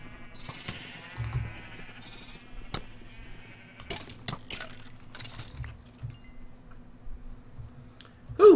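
Sheep bleating in the Minecraft video game, a few short game-animal calls scattered over a quiet background with soft clicks and taps.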